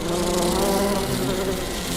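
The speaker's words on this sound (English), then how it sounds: "I'm a bee, and I bumbled my way into your car" A bee trapped inside a car buzzes steadily and loudly up close, a continuous droning hum with a slightly wavering pitch that holds for the whole stretch, with no voices over it.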